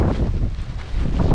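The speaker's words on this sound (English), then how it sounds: "I don't know if you can see the wind" Steady roaring gusts from a nor'easter snowstorm in New York buffet the microphone, a dense low rumble that fills the moment without any talking.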